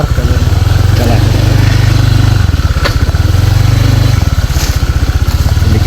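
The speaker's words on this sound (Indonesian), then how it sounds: "Ini kita pakai motor aspal guys. Bukan pakai motor trail." A road motorcycle, ridden on an asphalt-type bike rather than a trail bike through a forest area in Mojokerto, runs with a loud, close, pulsing engine chug that rises and falls as it travels, with speech-like voice sounds mixed in.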